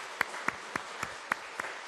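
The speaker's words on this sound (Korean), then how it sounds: "또 함께 인사할 때 환영하면서 박수하겠습니다" A church congregation claps in welcome during a Sunday worship service, with sharp claps falling in a steady, even rhythm about three or four times a second. The clapping is fairly faint over a quiet room.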